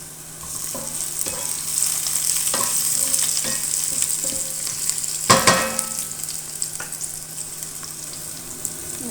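Onions frying in oil while being stirred: a continuous close hiss of sizzling with intermittent scraping strokes from a spatula and a louder clatter partway through, no talking.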